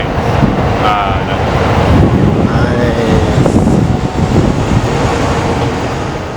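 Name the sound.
metro train in Tokyo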